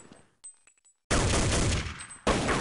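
Gunfire from a Counter-Strike match on de_mirage at a DreamHack 2011 esports event: a quiet stretch with faint clicks, then a sudden loud burst of sustained automatic fire, a brief dip, and a second hard burst.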